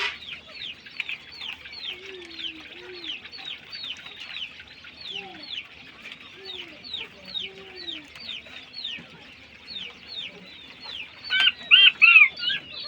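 King quail and coturnix quail call on a small farm, with a fast run of repeated chirps, lower soft calls, and a louder burst of calls near the end.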